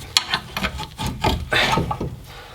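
A brake caliper is worked off a car's front suspension, giving close scraping, rubbing and clunking metal sounds in uneven bursts over a couple of seconds.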